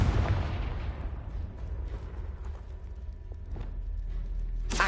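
A Confringo blasting spell going off in the video game Hogwarts Legacy: a loud, booming blast at the start that rumbles and fades, then another sharp burst near the end.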